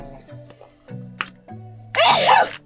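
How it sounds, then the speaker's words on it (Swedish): One loud, close sneeze bursts out near the end after quiet background sounds and faint tones. "Jag måste nysa."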